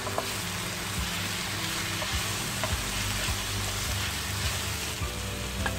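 Cumin seeds fry in hot oil in a pan, giving a dense, steady sizzle and crackle with occasional small pops, close and even throughout; no talking.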